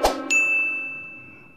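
A single bright bell ding rings out after a soft tap, its clear tone lingering and fading over a second and a half.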